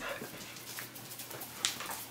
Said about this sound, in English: Oh, Evie, look at you taking care of the puppies.